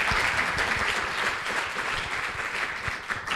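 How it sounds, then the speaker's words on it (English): An audience applauds after a film Q&A, a dense continuous burst of many hands clapping that holds steady and loud for a few seconds. "Applause."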